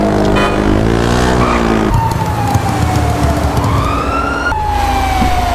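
A police siren wails through a chase in the GTA 5 video game, its tone sweeping up and down loudly and steadily over engine rumble, with no talking.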